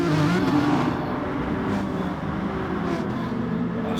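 A Scirocco race car running down a straight in a racing video game, a steady droning engine note held at full speed throughout, with no one talking.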